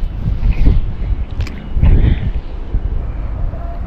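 Strong wind buffets a fishing boat at sea, a steady low roar of gusts on the microphone swelling around the middle, with faint voices and boat noise underneath.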